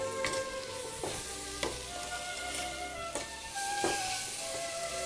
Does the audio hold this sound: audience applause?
no